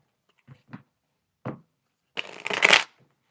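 Tarot cards are handled with a couple of soft taps and slides, then a brief crisp riffle shuffle bursts close up before everything goes quiet.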